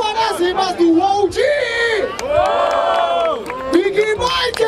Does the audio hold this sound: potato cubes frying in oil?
no